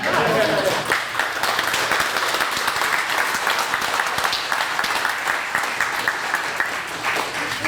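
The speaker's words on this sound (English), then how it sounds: "Again, another applause for Mitch." A lecture audience breaks into sustained applause at a museum speaker series event, a dense, loud wash of clapping that continues steadily throughout.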